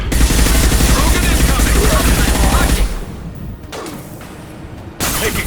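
Loud, dense automatic gunfire in a Mass Effect 2 firefight, a rapid sustained stream of shots that cuts off partway, followed by quieter scattered impacts and a final burst.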